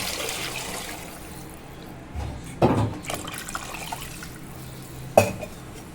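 Water splashes into a pot of chicken masala in a short pour, then a second brief splash, over a quiet background.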